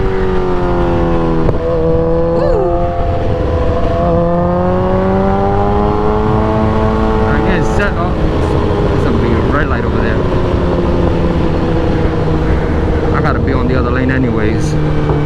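A 2008 Suzuki GSX-R1000 motorcycle engine, heard after a fuel treatment, revving steadily and loudly up close, its pitch rising and falling through repeated throttle blips for the whole stretch, with someone talking over it.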